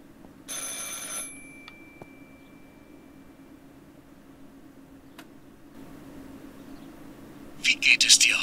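A telephone rings in the video game Martha is Dead, with one short, bright burst near the start and another at the end over a steady low hum.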